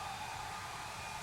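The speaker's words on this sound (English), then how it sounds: "Ready for the hair dryer?" A hair dryer blows warm air on a puppy, a steady close whirring hum with a faint tonal whine, heard alone for about a second.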